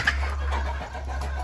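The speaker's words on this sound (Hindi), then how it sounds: "यहाँ पे देखिए, अंडा पे बैठा हुआ है ये मुर्गी" A hen sitting on a nest in Qatar gives soft, low clucks over a steady background hum, close and brief.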